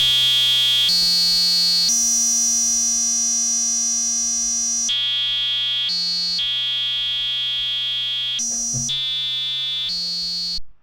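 Buzzy pulse tone from a VCV Rack modular synthesizer patch, stepping between sustained pitches every second or so like a harsh electronic alarm, loud and alone before cutting off abruptly.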